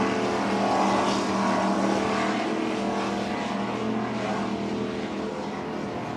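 Offshore powerboats racing at the Key West World Championships, bracket classes, a dense continuous engine roar that stays loud and steady throughout with no break.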